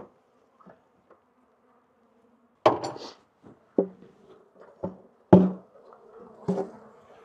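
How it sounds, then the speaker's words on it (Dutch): Honeybees buzz faintly and steadily around opened beehive boxes, broken by several sharp wooden knocks and clunks of hive parts being handled, with no talk. "Bakken met bijen."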